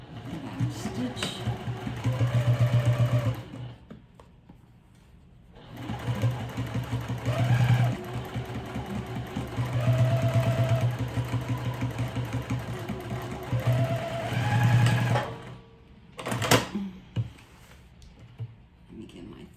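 A sewing machine runs stitches along the end of a clear vinyl pouch in long, steady motor runs with short stops between them, close and fairly loud, while a voice talks over parts of it.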